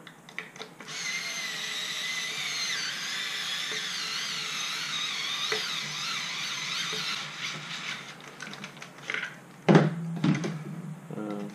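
A power tool whirs steadily while tightening bolts on an airsoft Carl Gustav launcher during assembly, a sustained high buzzing drive for several seconds, then brief clunks and handling knocks at the end.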